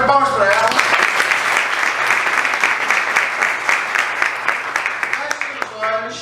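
A room full of people applauding during a public speaking class, sustained close clapping for several seconds that tapers at the end as a voice begins to speak.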